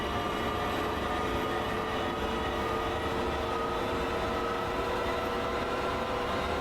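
Long Island Rail Road electric commuter train in Train Sim World 2, a steady, continuous rumble of wheels and motors with a faint sustained whine, unbroken and fairly loud throughout.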